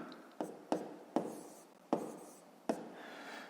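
Numbers being written by hand while working a fifth-grade decimal addition exercise, heard as five distinct close taps and strokes of a pen on paper at an irregular pace, quiet and without talk.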